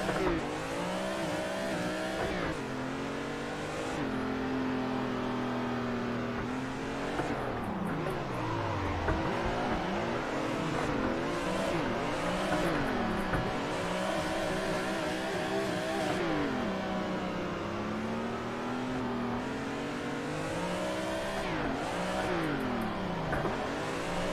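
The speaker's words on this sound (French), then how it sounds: "Je sais pas comment il drift le mec, mais il drift vraiment mal." A BMW M3 drifts in Assetto Corsa, its engine revving and dropping repeatedly in sweeping pitch swings while the tires squeal, steady and fairly loud, with no talking.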